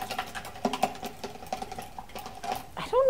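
A paintbrush is swished and tapped in a cup of water, giving a quick run of soft clicks and splashy patter up close, with a brief sloshing swirl at the end.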